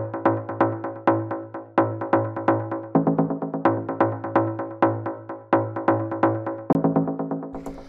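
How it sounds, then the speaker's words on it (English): Punchy FM-synthesized techno stabs built in Operator pulse at 128 BPM, a bright chordal hit over a steady low drone, repeating in a tight syncopated rhythm with quick decays, loud and alone. "the first sound that we have here are these stabs"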